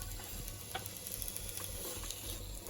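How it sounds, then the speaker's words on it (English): Onion frying in hot oil, a steady broadband sizzle holding even and moderately loud throughout, with a few faint ticks and stirring clicks and a low hum underneath. "adding an onion to some hot oil, and I'm going to leave that to cook for about 3 or 4 minutes"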